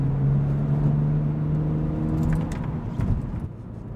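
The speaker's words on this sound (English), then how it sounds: "we're going through here with a little bit of speed through these corners" A BMW 135i carries speed through a run of corners, its engine holding a steady droning hum that fades and breaks into road rumble and tire noise as it slows.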